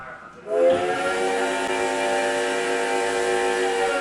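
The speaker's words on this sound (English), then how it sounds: "that really kind of sounds like a steam engine" A toy steam engine whistle at a railroad museum in Dickson, Tennessee blows steadily for several seconds after a brief quiet start, sustained and breathy, bright and hissing with a steady pitch, fairly close.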